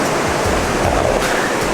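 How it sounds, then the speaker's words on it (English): Ocean surf rolls onto a beach in a continuous loud wash of broadband noise, waves breaking and hissing close by with no voices. "waves."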